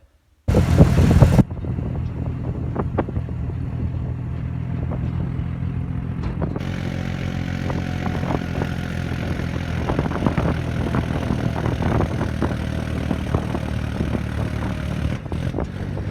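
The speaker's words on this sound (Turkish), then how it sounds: "bu traktörün arkasında görmüş olduğunuz makineyi e, serpme makinesi diyorlar" A tractor engine runs steadily while pulling a seed spreader across a field, a continuous low rumbling drone with clattering, preceded by a brief louder burst at the start.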